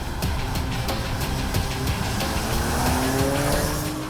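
Porsche Macan Turbo SUV driven hard on an open road, engine roaring steadily with rising revs and a brief tire squeal, loud and close throughout with no talking.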